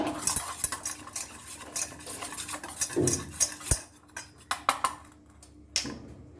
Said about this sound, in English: So pinch of turmeric powder, pinch of coriander powder, and we give a mix for this